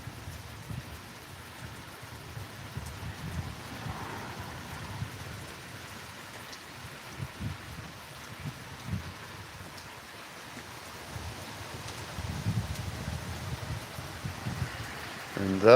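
Steady outdoor rain falls during a weather alert in Elmore County, Alabama, a soft continuous patter with low rumbling and wind, fairly faint, with a voice speaking faintly at times.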